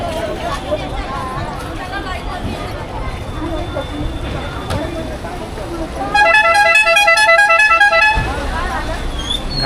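Vehicles honking on a crowded street near a temple in Akkalkot, with a sustained horn blast standing out over traffic noise and the chatter of people nearby.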